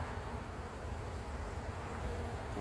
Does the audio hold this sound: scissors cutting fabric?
no